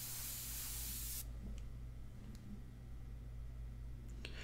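An airbrush sprays India ink onto paper, fed by a quiet Cobalt compressor: a loud steady hiss that cuts off after about a second, leaving a low compressor hum with faint clicks.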